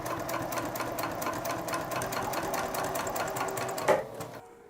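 A Juki TL 2010Q sewing machine stitches through four layers of vinyl, a fast, even mechanical chatter of rapid needle strokes close up, running steadily before stopping abruptly near the end.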